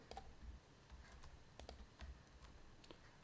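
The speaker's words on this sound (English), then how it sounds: "To delete that, we need to type delete from this table" Keystrokes on a computer keyboard entering a database command, a quiet, uneven run of light clicks with small pauses, alone with no talk.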